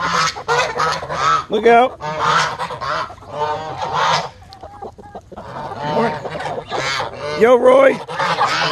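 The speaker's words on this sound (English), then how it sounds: "These chickens." Chickens cluck and squawk close by in a yard in a busy, uneven chorus of loud bursts, and a person speaks briefly among them.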